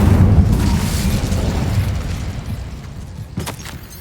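An Incendio fire spell cast in the video game Hogwarts Legacy bursts as a loud, close whooshing blast of flame that roars at first and then slowly fades, with a brief crackle near the end.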